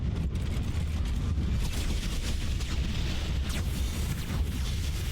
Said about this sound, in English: that's a pretty intense barrage of missiles